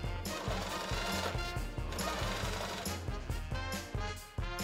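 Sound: sewing machine stitching a bib's bias binding

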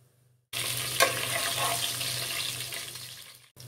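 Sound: sautéing masala spices in hot wood-pressed peanut oil

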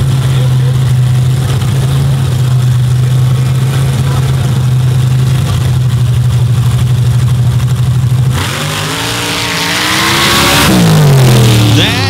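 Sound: race vehicle engine revving on a hill-climb run

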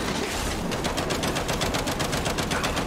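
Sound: turret gunfire in the video game Gears 5

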